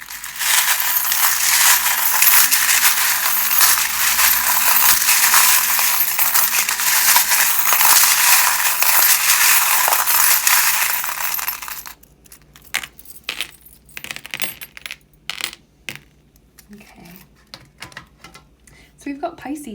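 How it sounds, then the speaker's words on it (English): Small metal tarot charms are shuffled in a dense, continuous clinking jangle for about eleven seconds, then thin out into a few scattered clicks and light taps. "if you don't like the sound of the charms"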